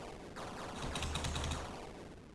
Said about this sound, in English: the sound effects might be a little loud here, but we have a turret and we're going to shoot projectiles.